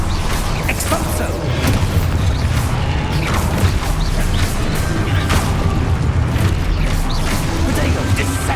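Repeated spell blasts and crashing impacts from the Hogwarts Legacy video game fill the mix, loud and dense with booms and mechanical clatter, while a voice shouts spell names over them.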